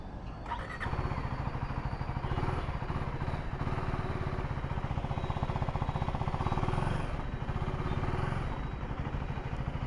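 A Husqvarna Svartpilen 401 motorcycle running out on the road, its engine starting and then holding a steady, loud thrumming drone under wind for the length of the ride, with no talk.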